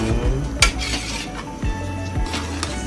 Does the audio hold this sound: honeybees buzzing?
no